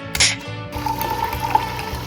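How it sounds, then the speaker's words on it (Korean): Cold sparkling water is poured into a glass over passion fruit syrup to make a tropical ade: a short splashy start, then a steady bubbling fill with a faint ringing tone, heard up close. "이런 시원한 탄산수를 넣어주시면 됩니다"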